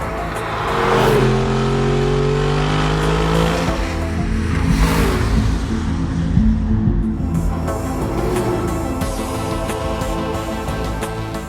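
An Audi R8 V8 supercar engine revving loudly and close, with a steady roar rising and falling through several throttle sweeps, alone without talk.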